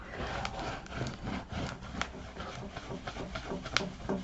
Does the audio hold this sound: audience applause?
no